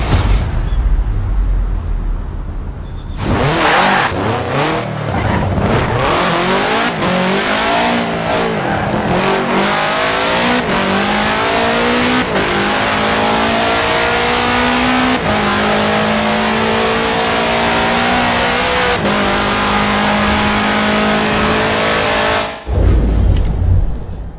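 Game engine sound of a 1966 Volkswagen Beetle fitted with a 2.5-liter flat-four turbo engine in Forza Horizon 4, loud and close, revving and accelerating through repeated gear changes with rising and falling pitch, continuous for about twenty seconds before cutting off.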